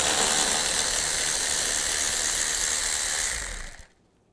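A ratchet fitted with a 10 mm socket backs out a screw on a Chevy Cruze's radiator cooling fan assembly, making a loud, continuous whirring rasp that cuts off abruptly near the end.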